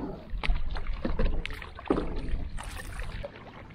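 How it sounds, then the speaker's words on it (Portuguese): A kayak fitted with two motors, one of them faulty, moves across choppy sea off a Bijagós island in Guinea-Bissau, with close splashing and slapping water, wind buffeting and an irregular rise and fall of noise. "Este caiaque é equipado com dois motores"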